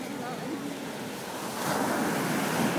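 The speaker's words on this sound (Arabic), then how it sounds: "خلص يا بحر ما تيجي عند آية" Sea waves wash onto a beach in a continuous near surf roar mixed with wind buffeting the microphone, swelling louder toward the end.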